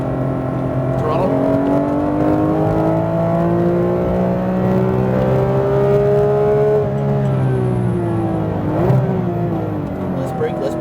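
A Porsche GT3 RS on a racetrack pulls hard under throttle, its engine note climbing steadily and loud for about seven seconds before dipping briefly and rising again, while a voice coaches over the continuous roar.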